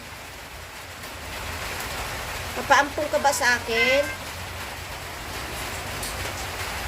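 Constant rainfall hisses evenly outdoors on a rainy day, with a person briefly speaking near the middle over the unbroken wash of rain.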